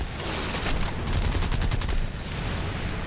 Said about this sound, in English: Spitfire. And let's start shooting away at them.